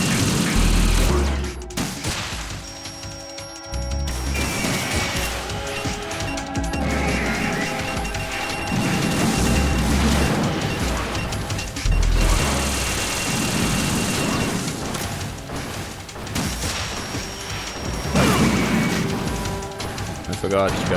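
Rockets and explosions from the Metal Gear Solid 2 video game, a dense run of blasts and gunfire-like bursts over a continuous game soundtrack, with a voice talking over the action throughout.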